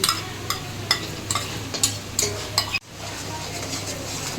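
Garlic paste frying in oil with onion and green chillies, stirred by a utensil that clinks and scrapes against the pan at a steady rhythm over a constant close sizzle, which dips briefly near the end.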